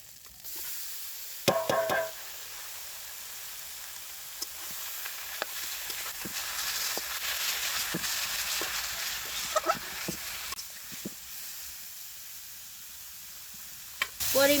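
Grated radish cooking with shrimp and spice masala in a pan, a continuous bright sizzle and hiss with occasional scraping stirs and clicks, close and steady with no talking.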